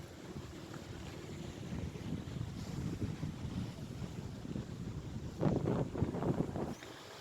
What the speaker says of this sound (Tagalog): kaning hangin gikan sa dagat